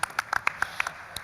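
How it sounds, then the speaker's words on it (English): Scattered applause from a small conference panel audience, a brief sparse patter of a few separate claps at moderate distance. "round of applause for that."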